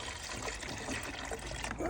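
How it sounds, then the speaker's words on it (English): Water poured into the K-cup section of a Cuisinart coffee maker, a steady close trickle lasting the whole moment, with some voice-like sounds in the background. "Let's pour some water in the K-cup section."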